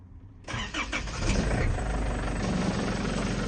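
A Holden Rodeo engine cranks and catches after a brief quiet moment, then settles into a loud, steady rumbling idle close to the microphone with no talking.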